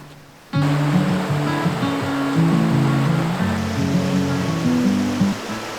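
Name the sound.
water flowing at Kirkham Hot Springs, Idaho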